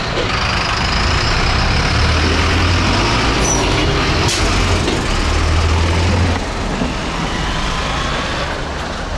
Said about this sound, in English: I was not expecting all this traffic